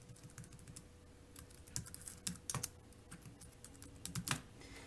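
Typing on a StealthPro 7-inch keyboard folio paired with a Google Nexus tablet: quick, irregular soft plastic key clicks in short bursts, close and fairly quiet, no talking.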